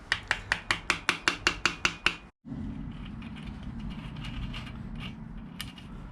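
Yamaha QT50 scooter headset being tightened: about ten sharp, evenly spaced metallic ratchet clicks close up, then a sudden stop, followed by a steady low mechanical rumble and faint creaks.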